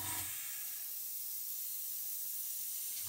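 Airbrush spraying cream paint onto a scale model, a steady close hiss of air and atomised paint running continuously for about three seconds after a brief start.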